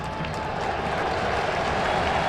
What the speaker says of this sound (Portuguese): O torcedor aplaude a ação ofensiva do Grêmio.